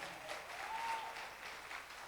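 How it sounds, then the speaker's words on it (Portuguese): A church congregation applauds in a soft, continuous wash of clapping, somewhat distant and even in level throughout, with no talking over it. "Aplauda o Senhor pela vida deles."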